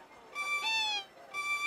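A voice imitates a cat with clear meows, three tonal calls in quick succession, each strong with rich overtones, close and alone.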